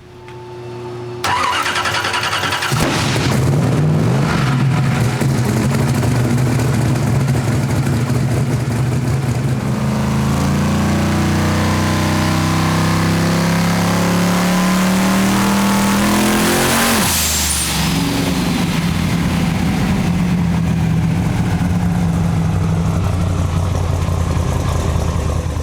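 A big black Hemi engine on a dyno fires up and then revs hard through a long pull, a loud close roar rising in pitch, briefly dropping, then continuing steady without talk.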